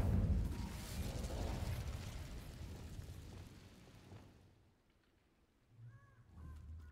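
An Incendio fire spell cast in Hogwarts Legacy bursts out loud and full, then roars and crackles as it dies away over several seconds, followed by softer game effects.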